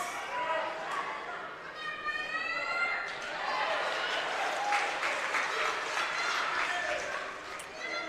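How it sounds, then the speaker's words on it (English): Spectators applauding at a high school wrestling match between Crater and West Linn, steady distant clapping from across the gym running under an announcer's ongoing commentary. "Applause from the far side as Sprague able to get out of that one."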